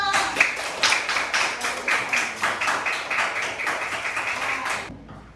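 Classroom applause for a student group after their presentation, with many pupils clapping fast and dense in a loud, lively burst that stops abruptly near the end.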